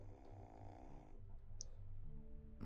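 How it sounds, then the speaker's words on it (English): A man snoring in The Wolf Among Us video game, low rumbling breaths in a slow, even rhythm, faint and muffled under a soft game ambience, with a short click near the middle. "Are you awake and he's snoring?"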